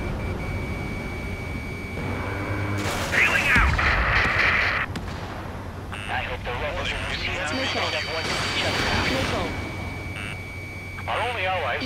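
Missile strikes and explosions in the flight combat game Ace Combat 7, with bursts of blasts and jet noise, beeping lock-on tones and radio chatter layered over continuous engine roar.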